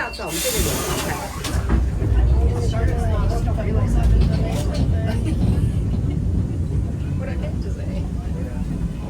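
Steady low rumble of a tram in motion in Christchurch, New Zealand, with rattling and hissing mechanical noise throughout and faint voices in the background.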